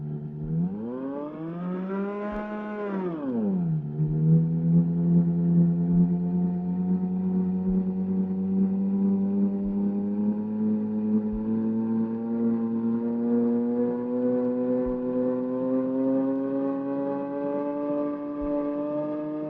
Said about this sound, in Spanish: compositor de obras como Despertar de una ciudad